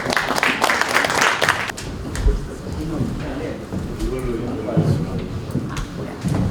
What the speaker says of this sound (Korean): 큰 박수로 맞이하도록 하겠습니다